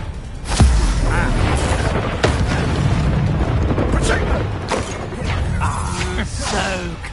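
Confringo blasting spell explosions in the Hogwarts Legacy video game, heard as a dense, loud stretch of booming blasts and crashes over rumbling combat noise, with a strong impact near the start and spell effects continuing throughout.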